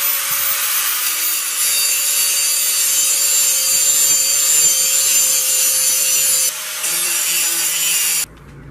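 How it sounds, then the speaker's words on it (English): Grinder working the edge of a homemade knife blade down to a drawn line, a continuous loud abrasive whine that holds steady for about eight seconds before cutting off abruptly. "So basically I grind down to the line that I just put right there on this side, on this edge."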